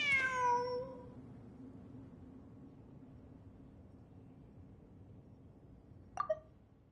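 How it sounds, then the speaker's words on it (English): Cat meowing in the Genshin Impact video game, one clear drawn-out meow at the start, then quiet ambience and a short second meow near the end, both close and distinct. "Wait, there it is! The cat!"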